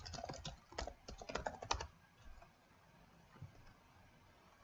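A zip code is tapped out on a computer keyboard in a quick burst of close, crisp keystrokes that bunch together, then thin out to a few scattered taps before falling quiet.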